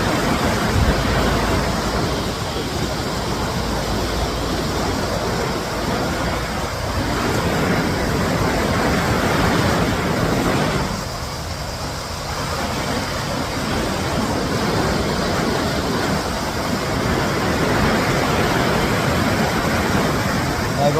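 A river in Norway rushes in a dense, steady broadband roar of flowing water, loud and continuous for the whole stretch with no voices.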